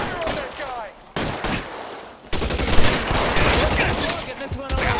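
Gunfire in the L.A. Noire video game crackles as a sustained fusillade of rapid shots and bursts, loud and continuous, with a voice shouting over parts of it.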